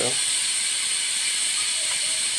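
Steady, loud hissing of steam venting from a pressure cooker, continuous and unbroken from start to finish.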